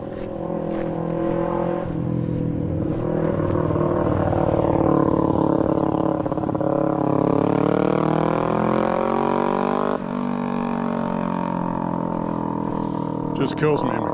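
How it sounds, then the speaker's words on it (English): Loud dirt bike motorcycle coming up from behind on a warm summer night walk, its engine droning steadily under continuous close talk from a walker. "Got a loud motorcycle coming up behind us."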